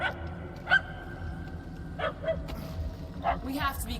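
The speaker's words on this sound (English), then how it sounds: "The yapping is getting louder. And more annoying." Small dog barks and yaps in Marvel's Guardians of the Galaxy, coming as a few short, sharp calls spread through the clip over a low game ambience, moderately loud but somewhat distant.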